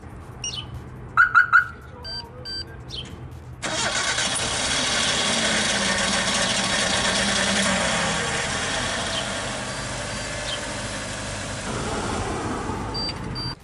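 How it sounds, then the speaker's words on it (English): A car engine started by a remote starter fitted with an alarm system: a few short alarm chirps come first, then the engine cranks and catches into a steady, fairly loud idle that runs on to the end. "And we're gonna start the car."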